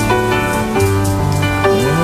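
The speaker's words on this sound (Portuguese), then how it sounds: "Aí começa chovendo." Rain opens a recorded song, an even patter of falling drops that runs continuously beneath sustained musical tones, loud and close with no voices.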